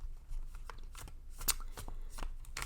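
A tarot deck being shuffled by hand, quick papery riffles and soft card slaps in an uneven rhythm, close and fairly quiet with no talking.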